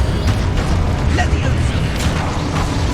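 Confringo blasting spell going off in Hogwarts Legacy, a dense, loud rumbling boom that stays steady for the whole stretch, mixed with game sound and faint bursts and pops.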